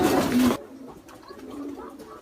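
A racing pigeon with an injured wing, back home in a rural yard, gives one loud, close coo at the start, followed by near silence with soft background noise.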